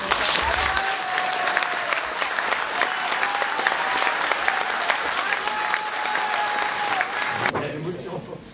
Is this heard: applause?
yes